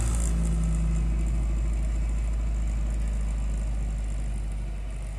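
A completely restored Citroen DS 21 idles after a cold start with the choke partly in, a steady mid-pitched engine drone that stays loud and close throughout, easing slightly toward the end.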